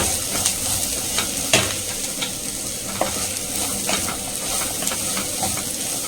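Steady sizzling and frying of ridge gourd in a pan, with scattered sharp crackles and the occasional scrape of stirring, close and continuous with no voices.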